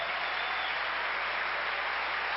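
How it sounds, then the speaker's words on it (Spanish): Loud, steady applause fills a church congregation, a dense wash of clapping that holds evenly throughout with no voices above it. "Démosle un aplauso fuerte al Señor."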